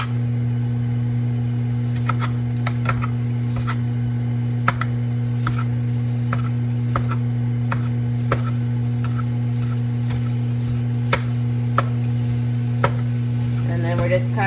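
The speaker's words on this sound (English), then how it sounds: "we're just kind of chopping up our block of ground turkey and incorporating it with our seasonings, with our garlic and our shallots" Ground turkey sizzles steadily in a hot pan with garlic, shallots and seasonings, while a utensil chops and stirs it in sharp, irregular scraping clicks close up; a low steady hum runs underneath and no one speaks.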